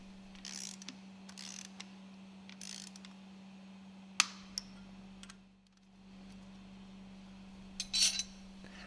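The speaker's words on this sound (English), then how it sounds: "Tighten the nuts according to datasheet 109-11" A ratchet wrench works the nuts on an engine cylinder cover: short bursts of metallic clicking recur every second or so, with a few sharp clanks, over a steady low hum in a quiet workshop.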